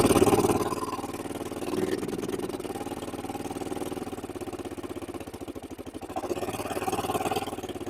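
Long-unused old ATV engine idling just after its first start, a steady close putter with a rapid even pulse and slight swells in level, with no voices over it.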